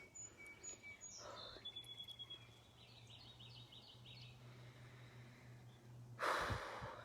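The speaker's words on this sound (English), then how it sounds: "I need to be silent and let you hear the birds" Birds sing outdoors under an open sky, with a few faint chirps and short twittering phrases at a distance over steady background hiss, followed by a brief louder rustle near the end.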